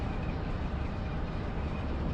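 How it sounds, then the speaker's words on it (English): Freight train rolling through the Run 8 Train Simulator game, a San Bernardino to Willow Springs, Illinois Z train of mixed intermodal cars, giving a steady, dense low rumble that holds at one level throughout with no breaks. "this is a San Bernardino to Willow Springs, Illinois Z train"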